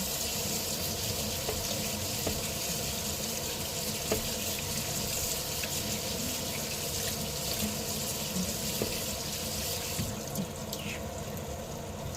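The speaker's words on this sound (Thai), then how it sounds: "ล้างหน่อไม้นะคะใส่ไปใน ตะแกรงแล้วก็ล้างหน่อไม้" Canned bamboo shoots being rinsed in a strainer under a kitchen tap in Norway: a steady, close rush of running water splashing through the mesh continues for the whole stretch, with no talking.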